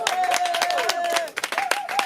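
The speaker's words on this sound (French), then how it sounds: "On applaudit très fort." An audience at a slam poetry evening in Vence breaks into loud, rapid clapping that runs for about two seconds, with voices calling out over the applause.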